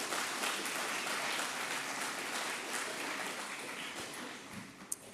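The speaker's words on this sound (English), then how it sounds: "Please join me in a round of applause for their leadership and service." Audience applause at an electric cooperative's annual meeting, a steady wash of many hands clapping at moderate distance, holding evenly for about five seconds with a slight taper at the end.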